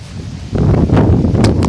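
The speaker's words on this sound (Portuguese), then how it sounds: "Tá ventando muito aqui." Strong wind buffets the microphone outdoors on a rural cattle pasture near a road and river, a steady low roar that swells louder after the first half-second and keeps gusting, with no talk.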